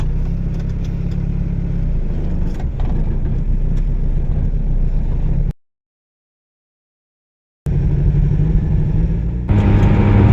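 A 1995 Toyota Corolla with automatic transmission driving on the road, its steady engine and road rumble loud and continuous, cutting out briefly before resuming.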